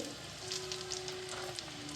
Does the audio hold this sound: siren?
no